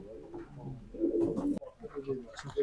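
Racing pigeons loaded for a 440 km race coo in low, throaty bursts close by, with voices talking around them.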